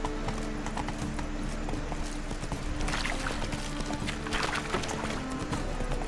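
Horse hooves clip-clop at a steady gallop in the Witcher 3 video game, loud and continuous across the whole stretch, with faint background ambience.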